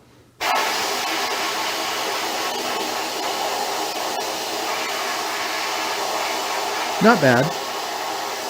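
A sandblasting air gun inside a blasting cabinet, fed by a half-inch hose, roars as a loud steady hiss from start to finish. A short spoken remark comes in near the end.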